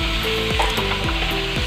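Food fries in hot oil, giving a loud, continuous sizzle and crackle close up, with a faint repeating tonal hum running beneath it.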